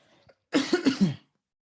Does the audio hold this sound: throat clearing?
yes